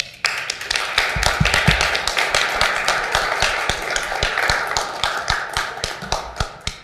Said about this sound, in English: you want to give them applause?